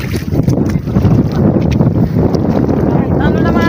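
Strong wind blasting a microphone outdoors on a windy coast, a loud, continuous low-heavy roar with gusty buffeting that stays dense throughout, while a voice talks faintly underneath.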